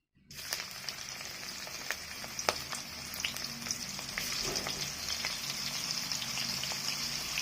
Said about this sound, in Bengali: এবার কপিগুলোকে একটু ভেজে নেব, হালকা করে কপিগুলোকে একটুখানি ভেজে নেব।